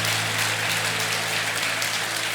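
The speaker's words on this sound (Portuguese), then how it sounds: "Vamos aplaudir Jesus por isso?" A church congregation applauds steadily during a sermon, dense clapping merging into a continuous wash of sound, with a low hum underneath.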